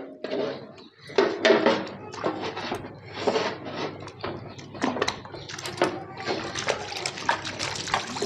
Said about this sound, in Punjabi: ਹੁਣ ਇੱਕ ਵਾਰੀ ਪੈਰ ਧੋ ਦਿੰਦੇ ਹਾਂ, ਧੋ ਕੇ ਪੂੰਝ ਦਿੰਦੇ ਹਾਂ